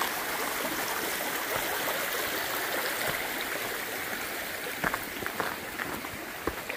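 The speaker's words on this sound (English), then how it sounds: "We have a tiny little creek crossing to do." A small creek flows steadily along the Appalachian Trail, a constant close rush of shallow water with a few brighter splashes and gurgles near the end, no voices.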